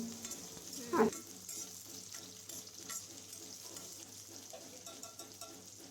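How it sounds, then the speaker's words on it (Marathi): Chopped onion and tomato with curry leaves frying in a pan for a Malvani vatana curry, giving a quiet continuous sizzle with one louder stirring scrape near the start, close but faint. "चिरलेला कांदा घालूयात. चिरलेला टोमॅटो घालूयात आणि छान फ्राय करून घेऊयात."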